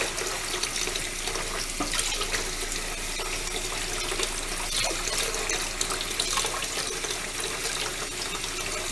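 Steady rushing of tap water running into a kitchen sink during cleaning with soap and water, continuous and fairly loud with a constant hiss and no voices.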